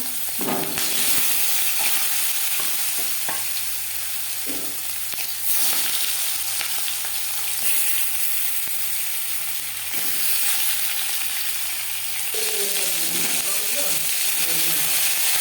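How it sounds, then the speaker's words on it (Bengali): Marinated satting fish fries in hot mustard oil with a continuous crackling sizzle, punctuated by scraping stirs and clinks of a utensil, ending with a softer bubbling. "মাছ ভাজা হয়ে গেছে"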